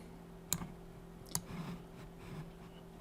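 Sharp mouse clicks while designing in Canva, two distinct crisp clicks about a second apart with a faint third at the end, close and isolated over a quiet room hum.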